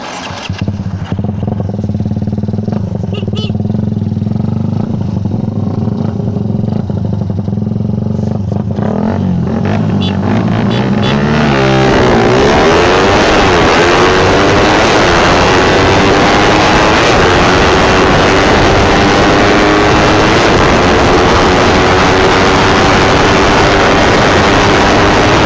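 A stock Suzuki R150 carbureted motorcycle idles with a low, steady thrum, then revs loudly and roars close by at high speed for the rest of the stretch.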